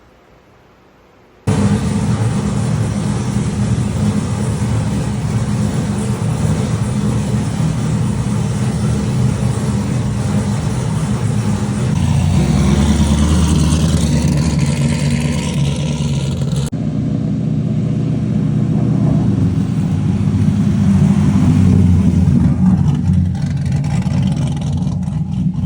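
LSA V8 swapped into a Nissan S14 240SX drag-car project fires up abruptly and settles into a loud, steady idle with a few throttle blips and revs, heard close and alone with no talk.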